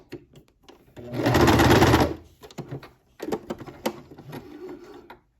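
A sewing machine stitches a garment's shoulder seam: one solid second-long run of rapid stitching, then a few short, clattery bursts separated by quiet pauses.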